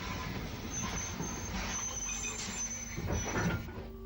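A British Railways steam-hauled train, an O2 tank engine, at an Isle of Wight station, heard as a steady loud rumble of moving wheels with squealing and clanking, no talking.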